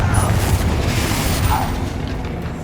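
A Confringo fire-blast spell from the Hogwarts Legacy game erupts as a loud, close, booming explosion, rumbling deeply and sustained through the moment.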